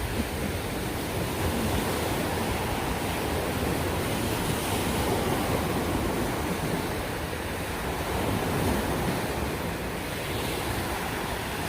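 Steady, dense roar of ocean waves at high tide on Boracay beach, a constant wash of surf with some wind buffeting the microphone and no clear gaps.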